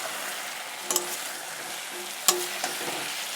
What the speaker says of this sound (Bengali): একটু ভেজে নিই তারপরে দেব জল